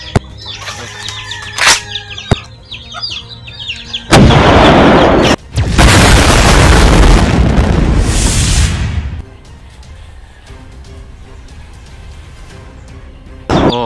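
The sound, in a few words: gunshots from newly bought guns being tested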